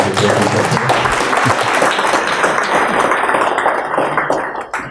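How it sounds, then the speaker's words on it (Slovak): Audience applause at a UX forum talk on office design, dense and steady throughout, fading slightly near the end. "poprosím potlesk ešte raz pre Michala"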